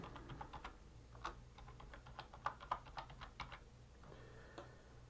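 Fingers type a password on a computer keyboard in short, quick bursts of soft, close keystroke clicks with brief pauses between them, heard alone at low volume.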